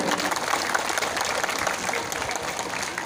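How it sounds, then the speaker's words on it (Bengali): A group at an education award ceremony claps steadily and continuously for a few seconds, a dense patter of hands without a break. "একটু করতালি দিয়ে অভিনন্দন জানাচ্ছি"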